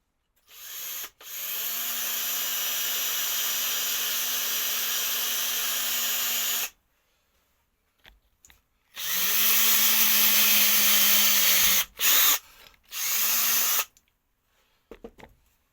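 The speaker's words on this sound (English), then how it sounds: "I'll just use the reamer and just push it out to the next size up" A power tool fitted with a reamer whines in two long bursts, with short spurts in between, as it enlarges a hole to the next size up while someone works on an oil burner. Each burst ends with brief silences.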